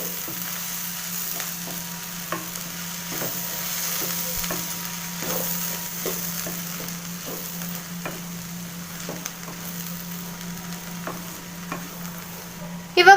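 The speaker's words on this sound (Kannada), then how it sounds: "ಇದನ್ನು ಕೂಡ ಹಾಕಿ ಚೆನ್ನಾಗಿ ಮಿಕ್ಸ್ ಮಾಡ್ಕೋಬೇಕು ಸ್ಟವ್ನ ಸಿಮ್ಮಲ್ಲಿ ಇಟ್ಕೊಂಡು ಮಿಕ್ಸ್ ಮಾಡ್ಕೊಳ್ಳಿ" Grated coconut and coriander stirred into a beans and green gram palya with carrot in a pan on a low flame, a soft steady sizzle with regular light scraping strokes of the spatula.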